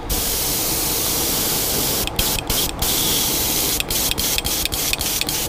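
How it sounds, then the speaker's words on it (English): Close, steady hiss of an airbrush spraying paint onto a fishing lure painted as a cutthroat trout; a long continuous pass gives way to a series of quick on-off bursts. "Just pull that all out of the airbrush chamber and across the back of that."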